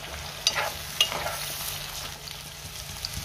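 Brinjal pieces for a spicy vangyachi bhaji fry in a pan under a low, even sizzle, with a couple of sharp scrapes from stirring early on and no talking.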